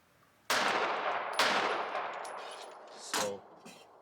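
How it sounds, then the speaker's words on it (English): Pistol fitted with a Holosun EPS red dot fires three sharp gunshots at an outdoor range, each a loud crack with a short ringing tail, the first two close together and the third after a longer pause. "I'm just gonna squeeze a few more rounds because I have a magazines loaded from yesterday's"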